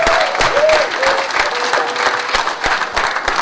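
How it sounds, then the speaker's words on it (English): An audience at a track and field invitational press conference applauds past students with brisk, close clapping from many hands and a faint tone running underneath. "I ask you to stand and applaud our past students, headed by Mrs. Sybil Jones, who have made it possible"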